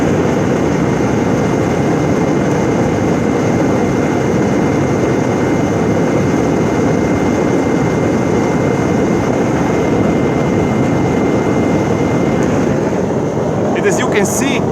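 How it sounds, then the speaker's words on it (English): A homemade oil-burning furnace, a ground forge fed from a Coke bottle reservoir, roars steadily as a cheap blower drives air through it, a loud constant rushing drone without break. "Coke bottle as a reservoir, cheap blower in the ground forge"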